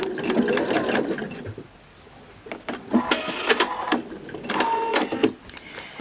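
A sewing machine stitches a back stitch along a marked line on quilting fabric, running in a few rapid mechanical bursts separated by a short pause.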